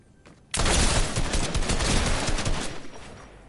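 Rapid Fortnite gunfire rings out loud and close, a dense continuous burst that starts abruptly and rattles on for about three seconds before tapering slightly.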